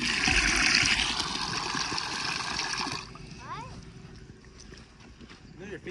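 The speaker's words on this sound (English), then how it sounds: "Water's coming out." Water gushes out and splashes loudly for a few seconds, then fades to quieter trickling while people talk nearby.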